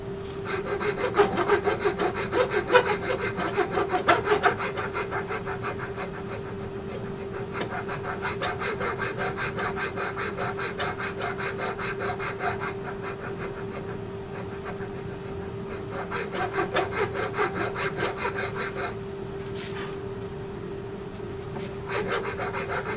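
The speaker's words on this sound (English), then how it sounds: "I'm just trying to get rid of the rasp lines from the coarse rasp" A coarse rasp worked across wood during woodturning, with continuous close, rhythmic scraping strokes at a steady pace, occasionally pausing briefly.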